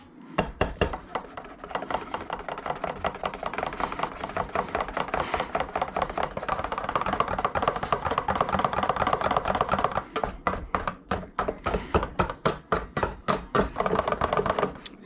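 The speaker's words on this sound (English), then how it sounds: "One egg, blended, you know, whisked, scrambled, but not cooked. Just kind of whisk it up." An egg for banana bread is whisked briskly with a fork in a bowl, producing fast, continuous close clicking and tapping that pauses briefly before resuming in sharper strokes.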